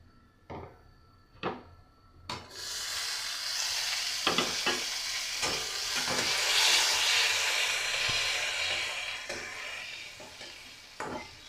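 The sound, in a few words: bay leaf, garam masala and cumin tempering sizzling in oil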